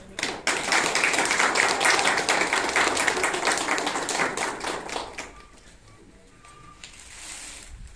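Wedding guests at a Nepali ceremony break into a burst of steady applause, many hands clapping densely for about five seconds before it stops abruptly, leaving quiet room tone.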